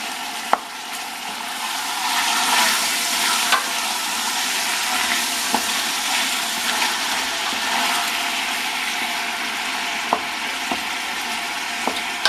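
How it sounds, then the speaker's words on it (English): Pork meat browning in a large 22-quart stock pot gives a continuous loud sizzle and crackle, with occasional sharp pops and scrapes of stirring. "we're going to brown up all this pork meat here a little bit"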